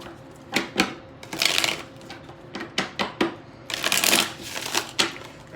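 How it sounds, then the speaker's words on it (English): A deck of tarot cards is shuffled up close in quick riffling bursts, each a soft papery flutter with sharp taps as the cards knock together, repeated several times with short pauses between. "one more shuffle"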